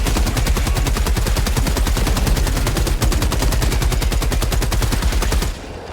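An automatic gun in Helldivers 2 fires nonstop in a fast, even stream of loud shots until it cuts off near the end, with no voices over it.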